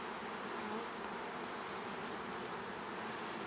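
A dense, steady drone of Italian honey bees buzzing in large numbers at a strong hive, close and continuous with no talking.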